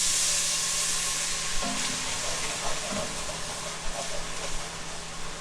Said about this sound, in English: we're about to add some white wine